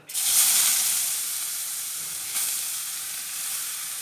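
Carrots go into hot ghee for carrot halwa, setting off a sudden loud sizzle that eases into a steady frying hiss, with a brief surge partway through and no voices.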